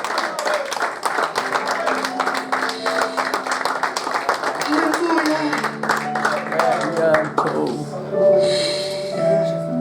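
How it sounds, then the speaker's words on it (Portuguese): A church congregation claps for Jesus during a sermon, a dense burst of many hands that fades toward the end. Humming or sung tones and murmuring voices run beneath it. "se puder aplaudir a Ele, dê uma forte salva de palmas"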